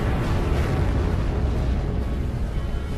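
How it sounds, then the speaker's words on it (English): Supernova stellar explosion effect for a space documentary: a continuous, loud, deep rumbling roar with a dense low-end boom that holds steady throughout, without any speech. "This creates one type of supernova in a massive stellar explosion."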